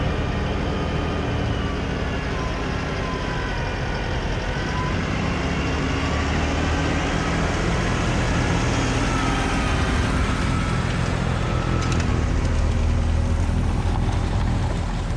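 A tractor carrying a snowblower drives over two bumps in the road, its engine a loud, steady, close drone throughout with a broadband rumble and no talking.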